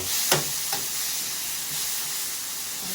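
Water poured into a hot pan of frying food, a loud, steady sizzling hiss that holds for the full few seconds, with a couple of brief clinks near the start.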